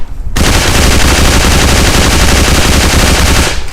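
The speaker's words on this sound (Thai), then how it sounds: "ควรจะยิงแบบชุด 2-3 นัดนะครับ" Loud, continuous automatic fire from an MP40 submachine gun in the shooter game AVA, a dense rattle of rapid shots running for over three seconds with no talk.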